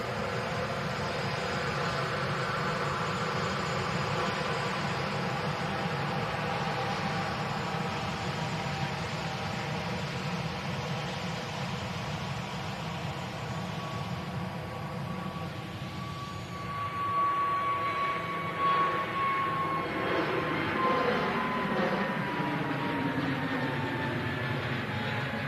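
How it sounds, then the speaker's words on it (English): An EasyJet Airbus A320neo accelerating on its takeoff roll at Manchester Airport, a loud sustained engine roar with rising whine tones that swells toward the end, heard from a distance with no talk. "EasyJet on the takeoff roll, heading down to the French capital."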